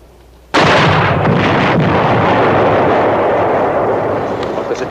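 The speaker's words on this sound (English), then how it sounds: "I'm not sitting here waiting for a blast from that 88" A German 88 gun fires in a 1963 war film: one sudden, very loud blast breaks a quiet moment, then a long, heavy rumble with scattered debris follows and slowly fades.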